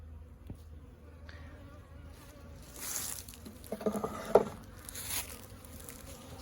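Honey bees buzz around a hive frame holding honey, a steady droning hum that swells louder midway, with a few sharper close passes near the end.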